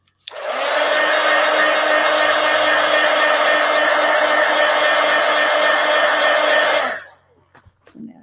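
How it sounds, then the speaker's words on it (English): A heat gun blows on a sketchbook drawing to dry it, a steady loud whooshing hum that switches on, runs about six seconds and then cuts off, followed by faint handling sounds. "Let me hit it with the heat gun."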